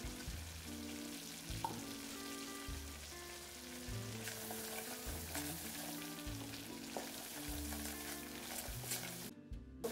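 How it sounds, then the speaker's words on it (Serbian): Chopped garlic sizzling in hot oil in a pan for a chicken soup, a soft continuous crackle with faint stirring scrapes, close and low in level, no talking. "Može još malo ulja. Evo beli luk."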